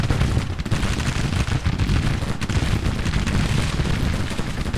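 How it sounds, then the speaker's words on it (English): Civil War artillery and musketry in the game Grand Tactician: The Civil War make a dense, continuous roar of booming cannon fire and crackling shots, loud and overlapping throughout. "We are opening fire on the enemy."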